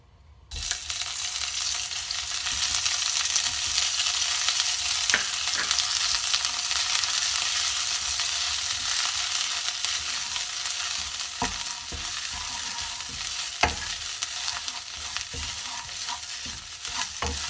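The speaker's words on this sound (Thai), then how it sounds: "เราจะผัดให้พริกแกงหอมอีกได้ที่อีกนิดนึงนะคะ" Ready-made Thai red curry paste, two tablespoons, stir-frying in hot oil: a loud continuous sizzle throughout, broken by scattered spatula taps and scrapes, one sharp clack late on, no voices.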